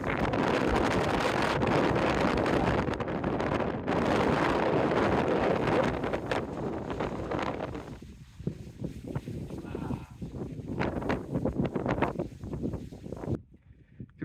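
Strong wind at a winter wild camp in the Peaks buffets the microphone with loud, rumbling gusts that ease off partway through, leaving gentler intermittent blowing as people talk.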